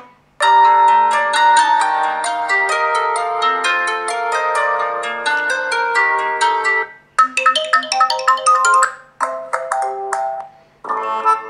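A Nubia M2 phone plays its ringtone loudly through the speaker, a bright melodic run of bell-like synth notes with a brief pause and a restart, and no talking over it.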